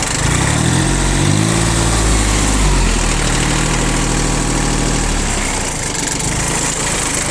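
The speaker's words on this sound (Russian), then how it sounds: "Работает трактор ровно, без лишних каких-то призвуков и подобных замечаний" A small Japanese PROGRESS-A two-wheel-drive diesel mini tractor with a rotary tiller idles steadily and loudly nearby, with a rough, even chugging throughout and no other sounds.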